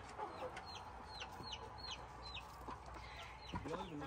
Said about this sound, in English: Doing all our chicken checking.